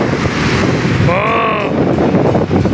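Strong ocean surf rushes and churns continuously, with wind buffeting the microphone and a brief tonal sound rising midway.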